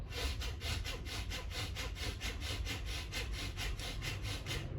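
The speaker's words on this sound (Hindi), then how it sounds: "ये है भस्त्रिका प्राणायाम। अब इसमें क्या हुआ, इसमें नाक से आवाज आ रही है।" Rapid, forceful bhastrika pranayama breaths pumped in and out through the nose at a steady fast rhythm, about four per second, loud and close with no talking.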